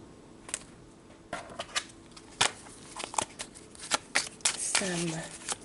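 Tarot cards being shuffled close up, a series of crisp riffling flicks and slaps in irregular bursts, fairly quiet, with a voice present in the clip.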